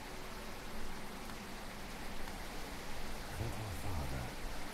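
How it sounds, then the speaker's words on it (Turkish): Steady rain falls in the turn-based video game Alder's Blood, a constant hiss with a soft low rumble throughout, fairly quiet and alone. "Yağmur var ya, etkiliyor herhalde."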